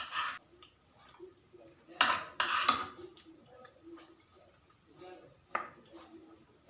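Chana masala being spooned from a pan into a serving dish, with scattered metallic scrapes and clinks of a spoon against cookware and a few soft wet plops between them.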